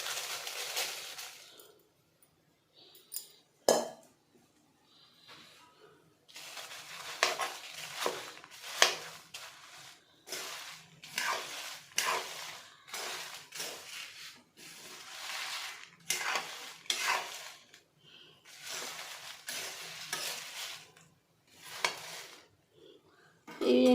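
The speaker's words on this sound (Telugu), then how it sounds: "దీంట్లో ఇప్పుడు నేను ఎండుమిరపకాయలు కూడా వేస్తున్నా" Dried red chillies fry in a pan while being stirred for a curry leaf chilli powder, giving bursts of light sizzling and scraping strokes separated by short pauses.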